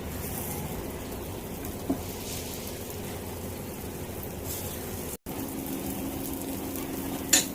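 Mixed dal appe, lentil dumplings, roasting in an appe pan over a medium flame, giving a steady soft sizzle with faint scraping and clinks, close and continuous, no talking.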